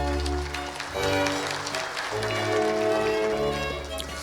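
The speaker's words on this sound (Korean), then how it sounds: "여러분 박수로 환영해 주시기 바랍니다." Audience at a Korean classical music award ceremony applauds steadily for several seconds, a dense wash of clapping over a low sustained musical tone.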